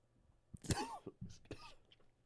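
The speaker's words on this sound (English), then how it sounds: "I swallow weird, and I always cough." A man coughs a few times after swallowing wrong, with a short strained vocal sound between the coughs, close and fairly quiet.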